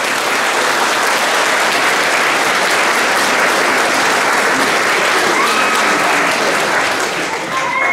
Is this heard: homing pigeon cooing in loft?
no